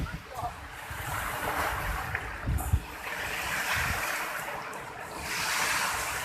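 Waves washing onto a south coast beach in Java, a continuous broad surf roar mixed with gusty wind buffeting the microphone, fairly distant and steady.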